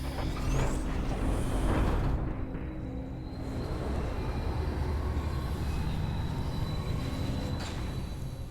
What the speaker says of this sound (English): Interesting that it makes trains squealing train wheel noises, despite the fact that it doesn't even have wheels. It's a hover train.